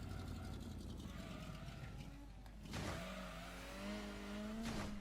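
Plymouth Superbird in Gran Turismo 2 on the Seattle 100 Miles endurance race, engine droning steadily then revving up as it pulls away, fairly faint and alone.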